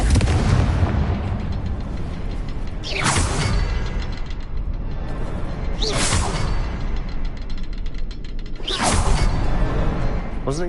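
Three whooshing Confringo blasting-spell explosions in Hogwarts Legacy burst out about three seconds apart, each rising sharply above a constant loud rumbling game ambience.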